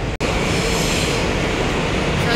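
A New York subway train running, a steady loud rumble and rattle of the cars on the rails throughout, close by, with one brief sharp break near the start.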